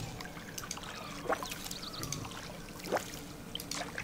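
Water pouring and splashing in short bursts as plants are watered in the video game Disney Dreamlight Valley, with a few trickling sweeps over a faint background.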